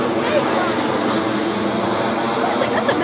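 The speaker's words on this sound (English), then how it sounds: "Wow. It's like, that's a military plane." A military plane flies overhead near an Air Force base, its engine a loud, continuous roar that fills the whole stretch while people talk underneath.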